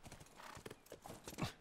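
A horse in The Last of Us clopping along with hoof beats blended into a whinny and snorting breaths, close and busy over a short burst.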